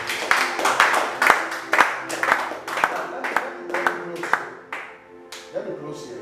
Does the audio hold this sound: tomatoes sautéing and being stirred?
no